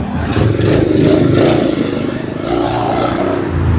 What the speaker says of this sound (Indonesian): Kita coba ya starternya ya.